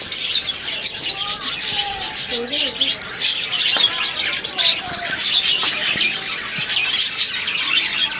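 Budgerigars and zebra finches in an aviary setup chirp and squawk continuously, a busy overlapping chatter of quick tweets and warbles, close and fairly loud, with a voice faintly mixed in.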